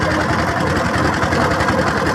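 A motor boat engine drones steadily up close on the Jamuna River, a loud rapid chugging throb that never lets up.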